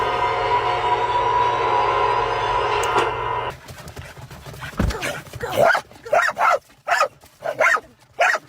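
A happy dog barks in a series of close, loud, evenly spaced barks after a few seconds of steady mechanical background noise, with brief whimpering sounds between the barks.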